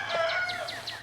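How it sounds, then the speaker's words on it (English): Backyard chickens cluck and call in a quick series of short, bright notes, close and fairly clear over a low steady background hum. "Just good chickens"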